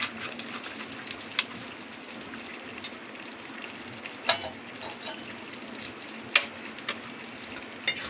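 Ghee sizzles in a pan for a potato and pointed gourd curry, a soft, steady frying hiss with scattered small pops and crackles, heard alone and fairly quiet.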